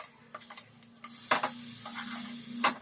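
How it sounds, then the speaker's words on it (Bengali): A vegetable breakfast fries in oil in a pan, sizzling steadily under a few sharp scrapes and stirring knocks of a utensil, all close by. "এই সাইডটাও একটু ভালো করে ভেজে নেব"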